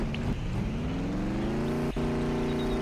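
Car engine revving in the Roblox video game, a loud sustained drone whose pitch climbs steadily across the few seconds, with no voices over it.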